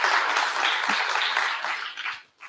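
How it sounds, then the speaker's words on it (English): A conference crowd applauds a speaker named Gulcin, a dense round of clapping that holds steady and then tapers off near the end, fading to almost nothing before a last brief burst. "please, round of applause for Gulcin once again"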